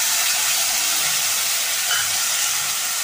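Spice paste of ginger, fennel, black pepper and green chilli sizzles steadily in a hot pan for a banana flower curry, a loud, even hiss of frying oil that holds throughout before cutting off.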